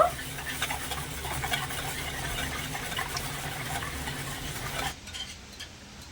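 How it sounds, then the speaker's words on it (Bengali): Milk, sugar and milk powder whisked together in a pan, a busy swishing and light clinking whisk sound close up that runs steadily for about five seconds, then drops away to quieter background. "ভালো করে নেড়ে ছেড়ে একটা হুইস দিয়ে মিশিয়ে নেব"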